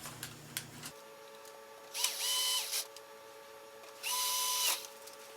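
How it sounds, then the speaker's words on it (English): Two bursts of a cordless power screwdriver driving the two front screws into a Macintosh computer case during an upgrade, each whirring for under a second with a short gap between, in a quiet room. "In go the two screws that hold it down in the front."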